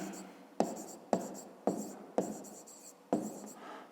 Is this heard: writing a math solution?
yes